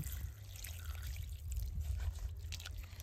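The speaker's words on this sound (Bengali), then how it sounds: "অনেকটার মধ্যে জল দিয়ে আধা ঘন্টা টাইম আমি থুয়ে দিব।" Water poured into a bowl in a home kitchen, a steady close trickling pour lasting the whole stretch, soft and continuous with no voices.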